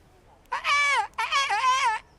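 In the medieval role-playing game Kingdom Come: Deliverance, a character's voice imitates a bird's song. Two warbling, sung phrases with wavering pitch are heard close and clear, separated by a short pause.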